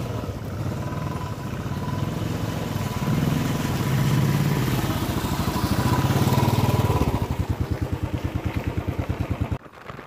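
Motorcycle engine running close by as the bike rides through a small water crossing on a rough rural road toward Khairabera Dam in Purulia, a steady throttled drone that rises mid-clip, then drops to a pulsing idle thump before cutting off.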